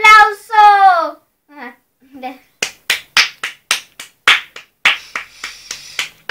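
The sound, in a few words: applause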